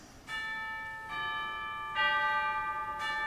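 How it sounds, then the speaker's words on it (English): Three bright pipe organ chimes-stop notes sound one after another, each ringing and overlapping the last, clear and close with no voices. "Or we've got even chimes"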